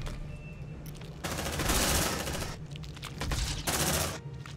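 Gunfire in the video game Aliens: Dark Descent comes as dense, rapid bursts of automatic fire, two loud sustained volleys separated by a quieter stretch over a low background hum.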